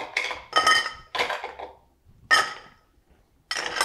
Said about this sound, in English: Then get some more of our nice ice in there